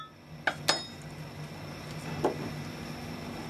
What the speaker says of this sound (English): Give it a little stir so the dragon's blood isn't all sitting on the bottom.